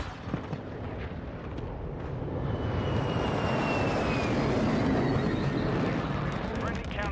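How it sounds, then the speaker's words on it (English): A stealth bomber precision airstrike in Call of Duty Warzone 2 builds into a loud, sustained roar of jet engine and rumbling blasts, with a high whine sweeping across, heard under game voices and chatter. "Friendly precision airstrike inbound. Friendly stealth bomber on the way."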